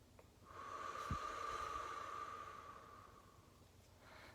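One slow, deep breath during a breathing exercise with hips and core muscles tightened, a soft airy inhale or exhale rising and fading over a few seconds, quiet and close with no voices.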